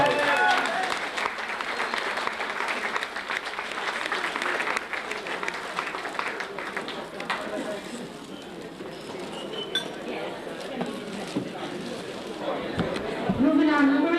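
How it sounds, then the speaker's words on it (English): An audience at a boxing night claps in appreciation for Denise McNulty, a dense, steady patter of many hands filling the room for most of the stretch, with crowd chatter and an occasional clink mixed in. "let's give her a big round of applause."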